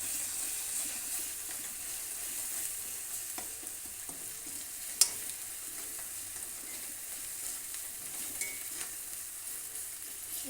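Ginger garlic paste fries quietly in a pan, a faint steady sizzle with sparse soft scrapes from stirring and one sharp clink partway through, fairly low in level and without voices.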